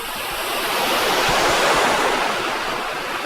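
A river rushes through a narrow gorge along a hiking trail in the Swedish mountains between Abisko and Ritsem, a steady, dense broadband roar of flowing water that holds at an even level and rises slightly midway.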